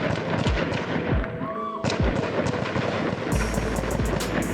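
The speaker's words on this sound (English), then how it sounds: "More than 40 gunshots can be heard." More than 40 rapid, sharp gunshots crack repeatedly in a long sustained burst during a real shooting, loud and close, with dull thumps and a brief faint whine between volleys.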